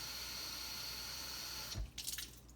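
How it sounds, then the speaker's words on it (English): A cup filling with water from a tap, a steady rushing stream that cuts off partway through, followed by a few faint drips and splashes. "Take a cup of water, fill it"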